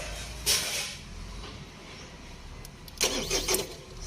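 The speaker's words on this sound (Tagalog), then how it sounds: "Sige, pakinggan po natin. I-engine start ko po." An excavator's engine is cranked with the ignition switch: two separate bursts of starter noise, the second longer and more ragged, over a faint steady background hum, nothing catching into a sustained run.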